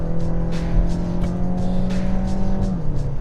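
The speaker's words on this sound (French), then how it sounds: "ça monte vite, ça s'entend, le bruit, certes il est présent mais il n'est pas envahissant, c'est un joli bruit en plus" A 2023 BMW X1 xDrive23i engine revving hard under acceleration, a smooth rising harmonic tone that climbs steadily, close and prominent, before easing near the end.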